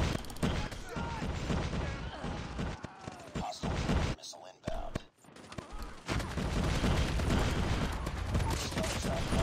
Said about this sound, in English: Double kill hip fire.